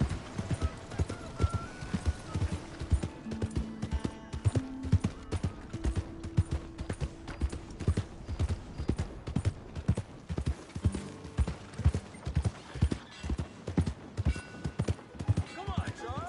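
Horse hooves clip-clop in a steady rhythmic gait as a rider moves along in a PS4 video game, with an occasional whinny and game voices speaking over the hoofbeats.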